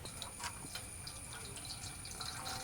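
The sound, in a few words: jaggery syrup being poured through a strainer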